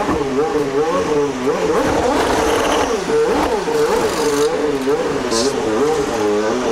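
A Champ Car race car on track in Cleveland with a left-rear problem, its engine revving up and down in wavering pitch while the car freewheels, loud and continuous under a commentator's voice.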